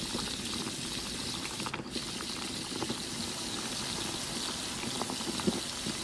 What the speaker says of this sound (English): Continue cooking until sauce thickens.